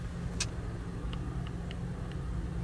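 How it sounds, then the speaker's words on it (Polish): A car drives onto a freeway on-ramp in Los Angeles, a steady low engine and road rumble heard from nearby outdoors, with faint light ticks over the continuous drone. "Tutaj właśnie wjeżdża samochód."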